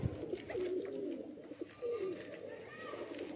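Pigeons kept by a fancier cooing close by, several soft, low, rolling coos in sequence, with a voice talking faintly in the background.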